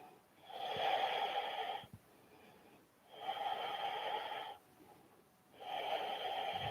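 Slow, deep yoga breaths, three long airy exhalations of about a second and a half each, separated by quieter pauses, close and fairly soft with no talking.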